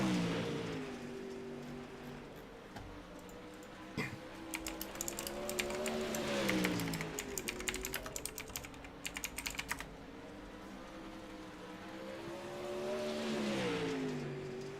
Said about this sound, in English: the 41 of Brooks Petzold is out for his qualifying lap